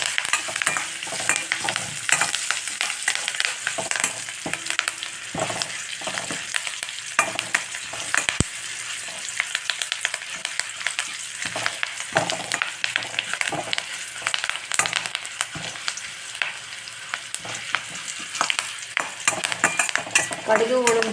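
Mustard seeds, urad dal, ginger, turmeric and curry leaves fry in a pan for lemon macaroni, producing a steady loud sizzle with crackling pops and occasional stirring scrapes throughout, with no voices.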